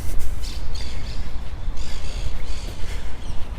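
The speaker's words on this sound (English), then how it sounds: "Can you hear the birds singing and chirping?" Birds squawk and chirp repeatedly in bursts, fairly close and loud, with no one talking.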